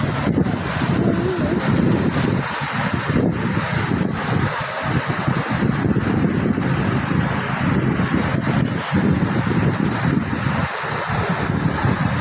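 Sea waves wash onto the shore at Patenga char in Chittagong, a constant broad surf roar mixed with heavy wind buffeting the microphone, without voices.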